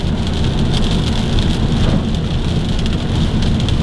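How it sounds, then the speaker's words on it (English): Heavy rain pours steadily and loudly, a dense continuous hiss close by, apparently heard from a vehicle on the road, with no talking. "So it's raining harder now."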